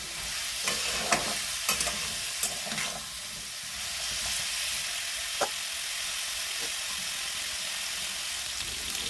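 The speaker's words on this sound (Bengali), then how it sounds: "এগুলো একটু ভাজা ভাজা হয়ে গেছে" Vegetables frying in a pan at home: a continuous hissing sizzle runs throughout, punctuated by scattered clicks and scrapes of stirring, close and moderately loud with no talking.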